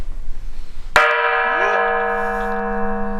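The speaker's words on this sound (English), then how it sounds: "Right here, we can hit the gong." A gong at Moobong Mountain in Pyeongtaek is struck once, loud and close, after a quiet moment. It rings on with a long, steady, shimmering tone that hums and slowly fades.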